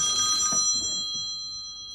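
A telephone ringing during an interview, a close electronic trill that rings briefly and then fades away.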